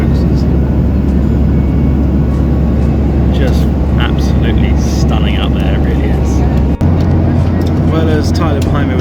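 Inside a flying airliner cabin, a loud steady engine drone and rushing air fill the whole stretch, with a person talking over it.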